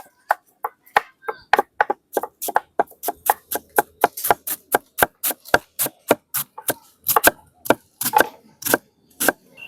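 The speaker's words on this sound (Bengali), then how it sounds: "বাঁধাকপি কেটে দিচ্ছি এখনই" Cabbage chopped with a knife on a board while cooking in a Bengali village, a long run of quick, evenly spaced crisp chops, close and clear with almost no other sound.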